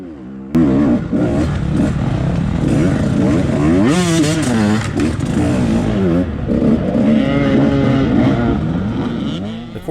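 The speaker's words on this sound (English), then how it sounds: "The course is crowded with over 300 bikes racing today on a 5-mile course." A crowd of dirt bikes, including a KTM 250 XCW, racing on a muddy 5-mile course with over 300 riders. Several engines rev and whine together, loud and close, with rising and falling throttle sweeps and clattering over a steady roar.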